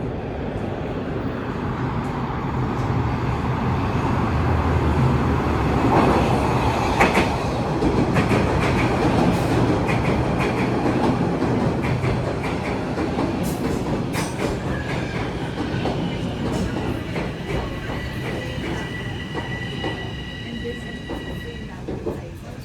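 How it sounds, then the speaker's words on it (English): A southbound TTC subway train pulls into North York Centre station in Toronto, a steady loud rumble of wheels and motors with metallic clatter and faint squeal filling the platform throughout. "Oh, and here comes the southbound train."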